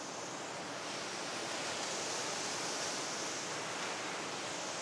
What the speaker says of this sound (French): Le lit du ruisseau est constitué d'une série de cascades et de ressauts sur à peu près 800 mètres.